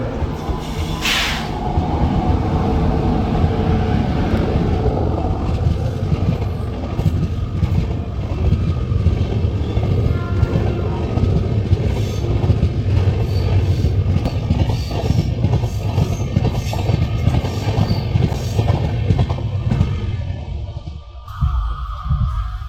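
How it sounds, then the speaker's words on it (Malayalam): The Sabari Express rolls into Ernakulam Town railway station with a loud, continuous rumble and rattle of wheels and carriages, heard from on board, easing slightly near the end. "നമ്മൾ എറണാകുളം ടൗൺ റെയിൽവേ സ്റ്റേഷനിലേക്കാണ് ഇപ്പോൾ പ്രവേശിക്കുന്നത്"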